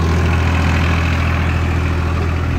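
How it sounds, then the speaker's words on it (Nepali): Tractor engine idling steadily at close range, a low continuous rumble with no break, just before attempting to climb an uphill slope on a village road in Namsu. "ट्र्याक्टर गाडी पनि ट्राई गर्ने अरे कि उकालो चढ्छ कि चढ्दैन"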